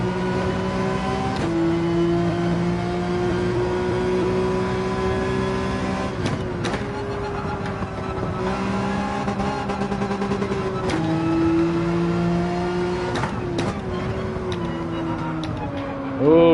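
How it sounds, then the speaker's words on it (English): Porsche 911 engine in Gran Turismo 7, revving and climbing through gears with steady harmonic tones that rise and drop at each shift, loud and continuous throughout an online race. "You just have to listen to the engine to know right when to shift."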